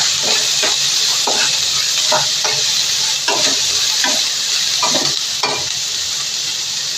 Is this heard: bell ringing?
no